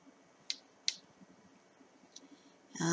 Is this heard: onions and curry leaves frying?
no